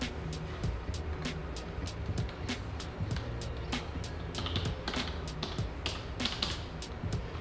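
Keys are typed on a computer keyboard while a password is set up for a Hikvision DS-7616NXI-K216P DVR, a run of light, close clicks in an uneven rhythm.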